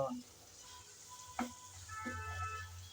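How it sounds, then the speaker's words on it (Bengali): Tomatoes being stirred and fried in a pan for a sea mola fish curry, giving a quiet, steady sizzle with a few distinct spatula scrapes and clinks near the start and middle. "কিছুক্ষণ ভালো করে নেড়ে চেড়ে টমেটো কষিয়ে নিলাম"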